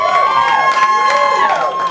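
A comedy club audience packs the room with loud yelling and cheering. Voices whoop and shout over each other in a continuous, close, bright clamor.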